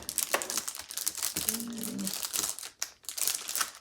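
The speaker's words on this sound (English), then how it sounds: "So I'm just going to cut off one roll here." Sublimation glitter foam is cut from a roll, producing close, crinkly rustling and snipping with sheet handling, and a brief voice underneath.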